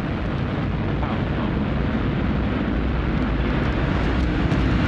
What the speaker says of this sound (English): We have liftoff of the Antares NG-18 launch vehicle from Wallops Flight Facility